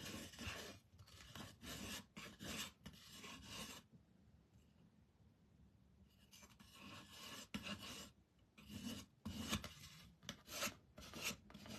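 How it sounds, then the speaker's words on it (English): A putty knife scrapes paint off a small wooden craft piece in repeated rasping strokes, close and steady, with a few seconds' pause before the scraping resumes. "now we're gonna take our putty knife, and we're gonna scrape and"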